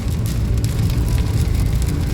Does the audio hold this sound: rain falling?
yes